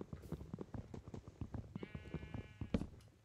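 Sheep in the Minecraft video game bleat repeatedly in short, wavering calls, several overlapping in quick succession at close range, one longer quavering bleat standing out near the end.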